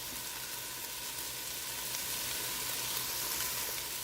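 Vegetables and paneer fry in a hot pan, a steady, even sizzle that holds at the same level with no talking.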